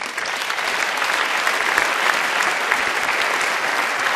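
A large audience gives sustained, intense applause at the OTO 2019 television awards ceremony. The clapping is dense and continuous, swelling slightly after the first second and holding steady throughout.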